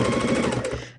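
Sewing machine stitching quilt binding, a fast, loud, close rattling run of needle strokes lasting about a second before tapering off.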